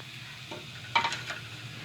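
Mutton frying in a kadhai for sarson ka saag, a soft sizzle with a brief scrape and a couple of spattering bursts, close and short.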